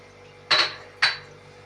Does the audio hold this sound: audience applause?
no